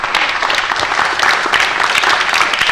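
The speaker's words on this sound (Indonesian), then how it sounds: "Oke, tepuk tangan." Studio audience applause on an Indonesian talk show about people who stood up to violent street robbers, loud and steady dense clapping throughout with faint voices mixed in.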